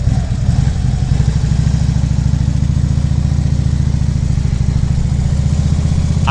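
A vehicle engine idles loudly and steadily close by, a low throbbing rumble with a rapid, even pulse and faint clatter.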